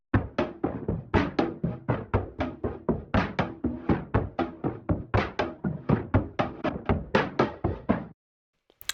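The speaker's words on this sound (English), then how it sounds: "We have a drum loop that I made out of the live drums." Drum loop built from live drum recordings, a steady run of punchy hits with a driving, even rhythm, close and loud, playing alone for about eight seconds before stopping.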